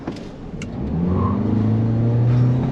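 2023 Toyota Corolla Cross Hybrid all-wheel-drive SUV pulling away hard from a standstill, the engine drone swelling and rising steadily in pitch as it gathers speed, heard from inside the cabin.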